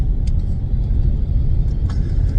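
Steady low road rumble and engine drone fill the cabin of a moving car, constant and fairly loud throughout with no talking.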